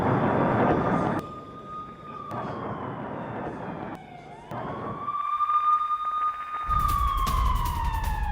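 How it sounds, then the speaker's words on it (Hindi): Air raid alert sirens wail across Gaza during Israeli strikes, a long steady rising and falling tone that sweeps up and down over several seconds against a rumbling background, loud and continuous with no talk. "गाजा के आसमान में बारूदी बौछार जारी है, चारों तरफ बज रहे हैं अलर्ट सायरन।"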